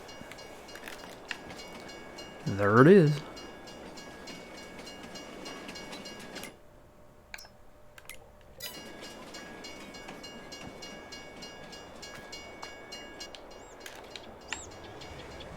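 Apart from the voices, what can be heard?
train passing in the video game Farming Simulator 22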